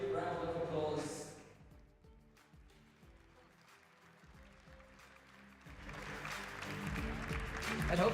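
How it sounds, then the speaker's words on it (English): An audience at the EHF Excellence Awards 2023 in Vienna applauds handball legends, clapping loudly at first, fading under a host's talk, then swelling again into strong applause. "One more time, give them a big round of applause."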